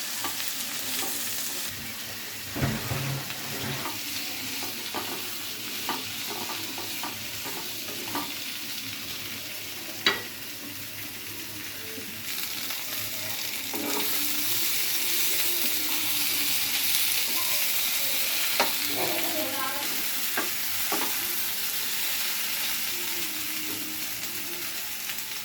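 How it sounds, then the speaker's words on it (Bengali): Potatoes and beans seasoned with salt and turmeric frying in a pan for a fish curry: a steady sizzle with frequent scraping stir strokes and occasional utensil knocks, moderately loud and without speech. "এবার ভালো করে সবজিগুলো ভেজে নিতে হবে।"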